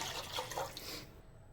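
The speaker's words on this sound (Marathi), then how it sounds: "सव्वा पावशर पाणी घालून घेणार आहे" A short stream of water pours into a pan of milk, splashing briefly before cutting off into quiet.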